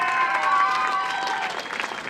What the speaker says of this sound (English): Another round of applause for Heather Penninger.